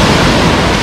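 Sea waves wash steadily onto the shore at Lazarevskoye, Sochi, on the Black Sea coast, a loud continuous broadband roar of surf with some wind noise on the microphone and no voices.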